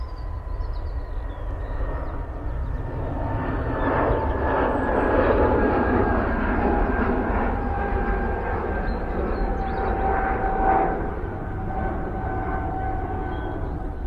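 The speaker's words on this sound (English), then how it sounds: "Here you go, easy boy, it's an EasyJet." An EasyJet airliner at Manchester Airport produces a steady, loud jet engine roar with a whining tone that holds and swells slightly, heard from a distance.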